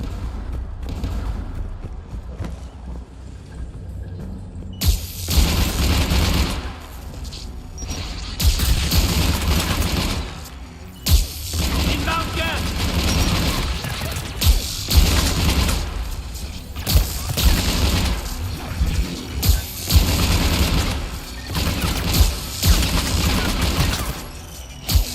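Anti-aircraft guns in the Mass Effect video game pound out a sustained, heavy barrage of booming shots. The fire starts after a few quiet seconds and keeps going loud and continuous, with sharp individual blasts punctuating a dense rumble.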